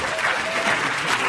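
An audience at a spoken word poetry performance claps in a dense, steady burst of applause filling the room, loud and close, with a few crowd voices mixed in.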